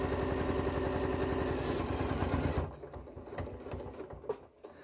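A sewing machine runs a long continuous seam on a zippered pouch, its fast, steady needle rattle filling the first half and then stopping, leaving faint handling noises.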